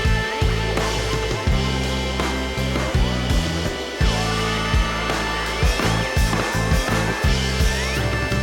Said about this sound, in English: make sure you cube this up into smaller cubes so that we run it through this grinder